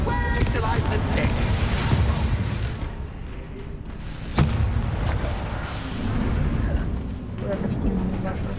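Confringo explosive spell cast in Hogwarts Legacy video game, a booming blast with a sudden sharp crack midway, over a dense layer of battle noise and a speaking voice.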